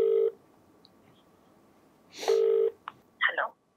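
A telephone being dialed, heard as short electronic tones and beeps, a couple of sustained tones separated by pauses followed by a few brief clicks and chirps, fairly quiet and with no talking.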